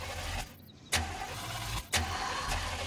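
A car engine being started, with a mechanical whir and clunks as the starter tries, sharp bursts of noise recurring a few times over a low, steady background; nobody speaks.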